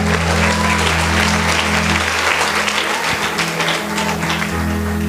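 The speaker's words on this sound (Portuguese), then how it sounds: "os que podem, tomem o seu assento aplaudindo a Jesus, porque Ele é bom." Church congregation applauding after a sermon prompt, a dense, sustained round of clapping from a large crowd indoors, steady and loud throughout with a brief dip midway.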